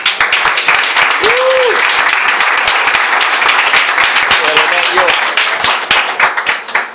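A church congregation applauds continuously for several seconds, a dense, loud wash of many hands clapping, with brief voices and a short sung or shouted tone rising above the crowd noise.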